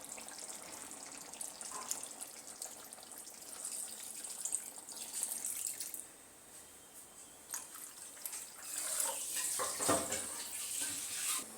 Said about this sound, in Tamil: இப்போது நம்ம புளி தண்ணியை ஊற்றிக்கலாம்